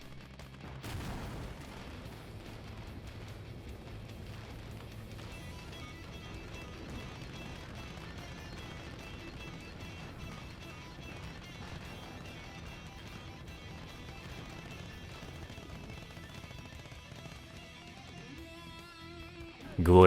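Tank explosions in the World War II video game Gates of Hell: Ostfront, a long low rumble of booms and distant gunfire under a busy battle soundscape, ending in a sudden loud blast.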